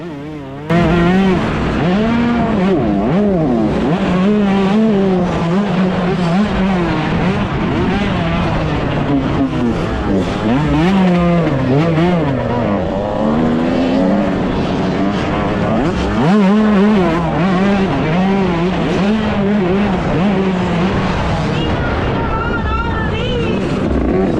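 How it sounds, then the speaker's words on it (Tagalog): Loud, continuous motocross motorcycle engine roar during a race, revving up and down for the whole stretch, close and dominant, with no talking over it. "Pakinggan nyo mabuti yung tunog ng motor ko."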